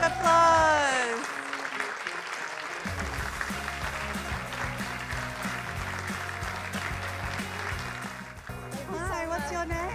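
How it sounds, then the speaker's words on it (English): A studio audience at a TV talk show applauds a contestant, sustained clapping with cheers, while a voice speaks and music plays over it. "Give her a round of applause."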